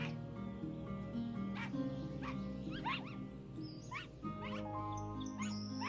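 A dog in the video game Into A Dream whimpers and gives soft yips and high whines over a steady droning music bed, moderately close, several short cries scattered across six seconds.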